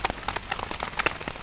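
Rain patters on a surface at a camp at night, a dense close spatter of irregular drops and taps with no speech.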